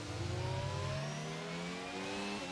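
A Ferrari Formula 1 car in an F1 racing video game at the Austin circuit screams past with a high, steady engine whine that drops in pitch as it goes by, fairly quiet and with no talk over it.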